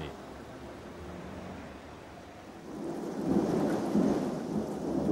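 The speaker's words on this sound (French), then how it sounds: "À la pointe de Tréboul, aujourd'hui, le panorama est troublé par l'orage." A thunderstorm with rain at Pointe de Tréboul on the Brittany coast: a steady hiss of rainfall, then a deep rolling rumble of thunder that swells midway and lingers, heard alone without talk.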